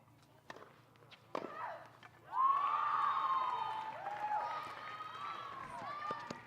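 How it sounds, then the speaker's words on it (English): A tennis crowd at a Billie Jean King Cup match, Morocco against Kenya, breaks into applause and cheering after a few scattered claps, swelling into a sustained roar with shouting that slowly fades, under a commentator's talk. "The crowd is extremely enthusiastic seeing these points."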